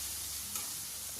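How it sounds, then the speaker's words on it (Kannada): Finely chopped onion fries in a pan over a medium flame for village-style chithranna, giving a soft, steady sizzle and hiss that stays faint and even for a brief moment. "ಚೆನ್ನಾಗಿ ಫ್ರೈ ಮಾಡ್ಕೊಳ್ಳೋಣ ಈರುಳ್ಳಿನೂ."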